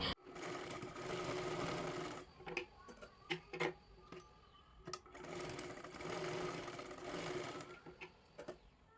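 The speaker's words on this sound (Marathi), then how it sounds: "आता इकडच्या बाजूला हे पा अशा पद्धतीने कपडा फिरवून घ्यायचा आहे" A sewing machine stitches a blouse with a square neckline design. It runs in two long, steady bursts, each followed by a few sharp clicks and taps, with no talking.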